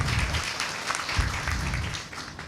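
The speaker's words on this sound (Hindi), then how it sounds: "तालियां बजाएं।" Crowd applause during a church celebration at Nazareth Hospital, dense clapping at moderate volume that fades slightly toward the end, with no speech over it.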